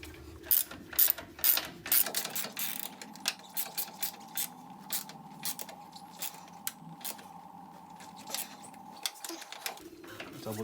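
A ratchet tightens the upper control arm bolts on a 2000 Nissan Frontier, giving rapid runs of close metallic clicks in repeated bursts, with brief pauses between strokes.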